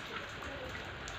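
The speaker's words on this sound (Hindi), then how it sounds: "आज तो बहुत वर्षा हो देखा आसतु" Heavy rain pours steadily at a house, a dense, even hiss of drops hitting surfaces that never lets up, with no voices.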